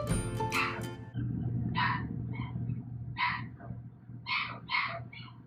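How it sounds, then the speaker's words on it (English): A dog barks repeatedly in short sharp yips, several in quick succession with brief pauses, fairly close and loud over a low steady hum. "The dog is barking."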